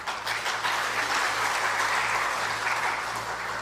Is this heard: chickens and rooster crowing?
no